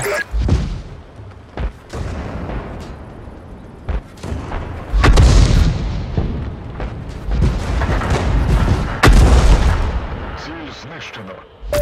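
A self-propelled M37 artillery gun in a video game fires heavy booms repeatedly at irregular intervals, loud and close, while a voice speaks between the shots over a constant rumbling background.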